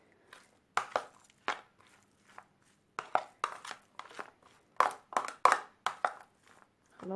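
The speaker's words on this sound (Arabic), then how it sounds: "احاول اعجنهم قوي مع بعض علشان الملح والتتبيله تندمج كويس قوي" Hands knead and squeeze a spiced minced meat and vegetable filling for hawawshi, producing close, wet squelches and soft slaps in an irregular rhythm, each one brief and separated by quiet gaps.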